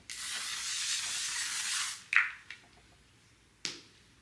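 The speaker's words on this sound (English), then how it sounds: "some of the L'Oreal Infallible 3 second setting mist." Two seconds of steady hissing spray from an L'Oreal Infallible 3 second setting mist bottle, fine and fairly close, followed by a few soft handling clicks and taps in a quiet room.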